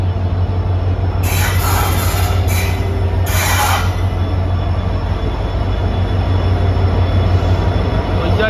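A Mandore Express train hauled by a WDP4 diesel locomotive pulls into a station platform, a steady loud low rumble of engine and rolling wagons throughout, with a few short hissing bursts of air brakes early on.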